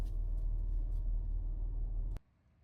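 A car reversing into a parking spot, its low engine rumble steady and close for about two seconds before stopping abruptly, leaving near silence.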